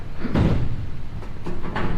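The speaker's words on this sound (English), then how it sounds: "So you'd open this door" The paratrooper door of a C-47 aircraft, Tico Belle, is handled with a heavy metallic clunk followed by a few lighter knocks and rattles, close by in a quiet space.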